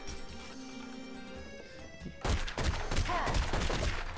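Gunfire in The Godfather video game, starting partway through as a loud burst of rapid shots and crashes over a low game background.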